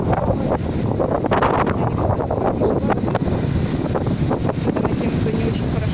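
Strong wind buffets the microphone at a beach, a steady loud roar with gusty low rumble throughout, surf faintly mixed in beneath.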